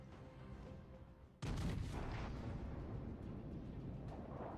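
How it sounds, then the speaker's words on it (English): A heavy naval gun broadside from the battleship Gneisenau in World of Warships: Legends, a sudden massive boom that rolls into a long rumbling roar, loud and close. "Lovely broadside from the Gneisenau"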